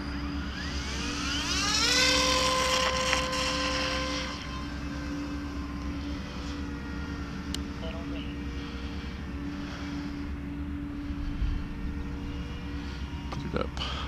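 A 40-inch Hughes Devastator model airplane's engine whines during a stall test, its pitch sweeping up and down early on before settling into a steady drone, with a person speaking over it.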